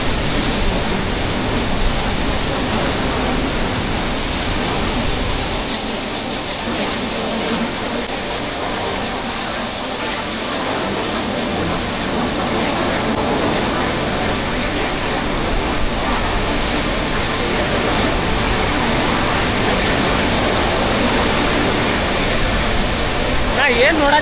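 Godachinmalki Falls near Gokak roaring with a heavy flow of water, a steady, loud broadband rush that continues unbroken throughout.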